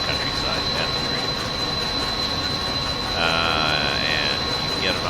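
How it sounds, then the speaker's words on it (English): A New Jersey Transit locomotive in Train Simulator 2020 rumbles steadily with loud wheel and rail noise and a constant high whine, a squeal rising briefly near the end. "And you get an awful lot of noise from the train,"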